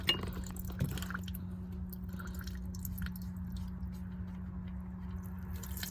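Water draining slowly out of the exhaust manifold of a 1980 Ski Nautique boat during pour-in winterization, heard as soft close trickling and wet squishing over a low steady hum, with a small splash near the start.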